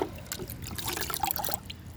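Liquid bio-fertiliser for rose plants is strained through a filter, a close, continuous trickle and splash of running liquid with small drips throughout.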